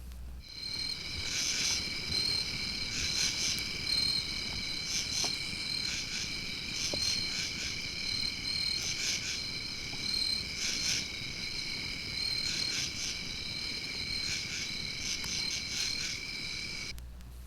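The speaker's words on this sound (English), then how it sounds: "mankind almost everywhere is subjected to a serenade of insect songs" Crickets and other insects sing in a wooded area of the eastern United States, a dense layered chorus of high, steady pulsing trills that continues unbroken and evenly loud throughout.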